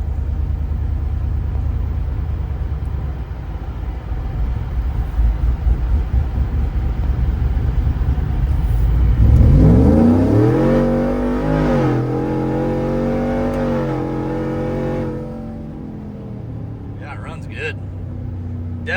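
A cammed 6.6L-swapped 2024 GMC 1500 4x4 pickup engine rumbles low, then revs up hard as it accelerates through rising gears, hitting torque limits, before easing off, with a voice talking over it.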